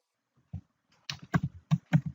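Keystrokes on a computer keyboard as a terminal command is typed, a quick uneven burst of about eight clicks after a single early tap, close and clear with no talk.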